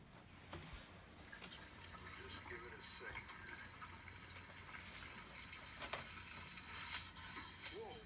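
Water runs from a household faucet contaminated by fracking chemicals, a faint steady hiss and gush that swells near the end, heard beneath a speaking voice.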